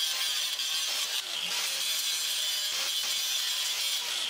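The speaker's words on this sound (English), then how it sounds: "now my next step is to grind out these rivets" A grinder works on the rivets of a car window regulator, giving a continuous loud, high abrasive whine with slight dips in pressure, close up and without talking.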